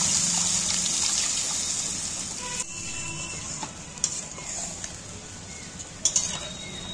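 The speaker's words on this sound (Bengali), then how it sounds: "এখানে আমি জল দিয়ে দিচ্ছি।" Water is poured into a cooking pan of fried spice paste for a vegetarian soybean and paneer dish, a soft steady trickle and sizzle with a few small clinks, no talking.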